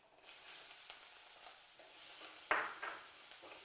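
Bitter gourd frying in oil in a pan for a tangy gojju, with a steady close sizzle, occasional stirring scrapes and a sharper crackling flare partway through.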